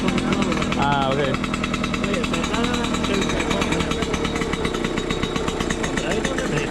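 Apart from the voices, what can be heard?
DT125 R motorcycle engine warming up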